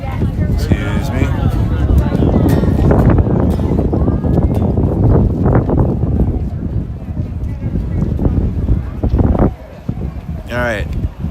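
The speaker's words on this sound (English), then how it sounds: "It is very windy today." Strong outdoor wind buffets the microphone at a street protest in Newark, New Jersey, a loud rumbling roar that gusts throughout while people talk over it.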